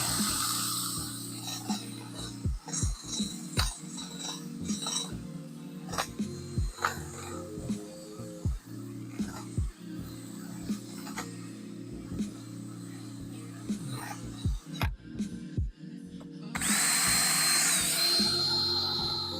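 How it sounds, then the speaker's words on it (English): A power drill with a scrubbing attachment whirs steadily against an engine's gasket mounting surface during Chrysler LS swap cooling system work, broken by short clunks and pauses, with a louder burst near the end. "This drill makes quick work of this."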